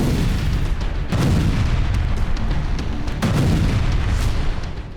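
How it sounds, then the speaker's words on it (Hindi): Several heavy booms from a missile strike on Kharkiv, Ukraine go off about a second or two apart over a constant rumbling roar, loud and harsh like distant shelling. "और यूक्रेन के खार्किव में शुरू हो गए धमाके।"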